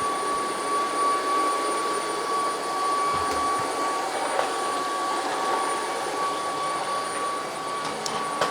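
A UWANT D100 wet-dry vacuum cleaner runs with a steady, even motor whine and airflow hiss, constant and fairly loud throughout, with no talking.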